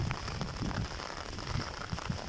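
Heavy rain pours down in a dense, continuous patter on surfaces, a close and steady wash with scattered droplet hits and no talking.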